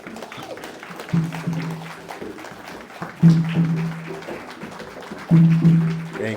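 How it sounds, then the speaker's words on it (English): Audience applause at a Juneteenth celebration for performer Golden Sapphire: a steady crowd clatter with three louder swells, each carrying a short tonal cheer or whoop. "Can we give one more round of applause to Golden Sapphire, please?"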